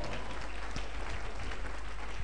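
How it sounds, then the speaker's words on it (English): Congregation clapping at a live prophetic church service, a dense wash of claps under constant low rumble and room noise, steady and sustained throughout. "Give the Lord a clap of prayer."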